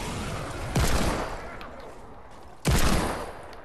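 Two heavy pump shotgun blasts from the video game Fortnite boom out about two seconds apart, each loud and close with a trailing echo, over a constant background hiss.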